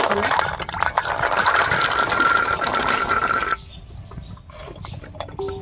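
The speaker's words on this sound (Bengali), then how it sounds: "আমি আলু আর কাবলি ছোলাটা সেদ্ধ করার জন্য কড়াতে জল দিয়ে দিচ্ছি।" Water pours into a kadai for boiling kabuli chickpeas and potatoes, a loud rushing splash for about three seconds that cuts off abruptly, followed by quieter kitchen clatter.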